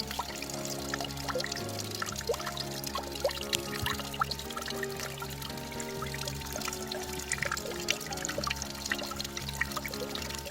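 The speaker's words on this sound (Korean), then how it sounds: "예, 산에서 지금 물이 흘러내리고 있습니다" Mountain water runs down past tree roots in a maple forest near Munsusa temple in Gochang, a continuous close rushing and splashing stream that holds steady for the whole stretch with no voices.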